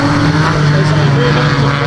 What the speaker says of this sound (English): the first car coming out